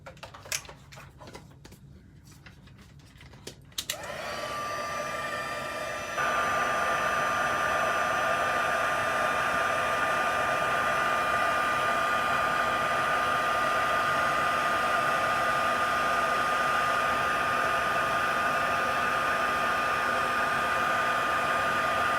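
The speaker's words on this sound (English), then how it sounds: "Hopefully the heat tool will not mess up the quality of my video." A handheld heat tool melting embossing powder on a stamped Christmas gift bag switches on after a few faint ticks and taps, then blows with a steady, loud, close whirring roar.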